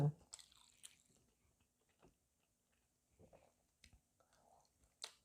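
Someone eating Thai nam tok noodle soup with chewy rice noodles, making soft, close bites and slurps in scattered bursts with quiet pauses between them and a faint murmured voice.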